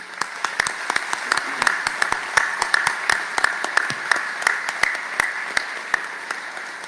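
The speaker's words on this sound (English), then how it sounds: "How about a round of applause?" Audience applause at a Pacific Fleet change of command ceremony, a steady patter of many hands clapping, moderately close, sustained for several seconds with sharp individual claps standing out.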